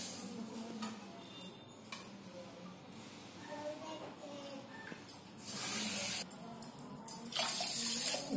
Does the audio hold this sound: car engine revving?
no